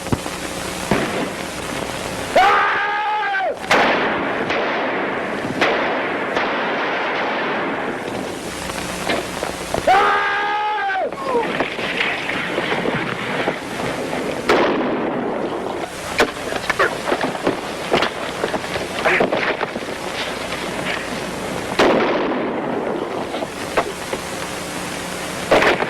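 A scene from the Western film Apache, where one man fires a pistol and a rifle: repeated sharp shots and bangs ring out over a rushing, windy roar across the whole stretch.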